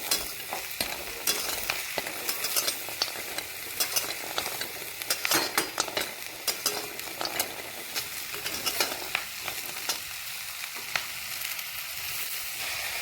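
Asafoetida and whole spices are dry-roasted in a pan, giving a crackling sizzle with repeated scraping stirs and spatula taps, close and moderately loud, continuing unevenly throughout with no talking.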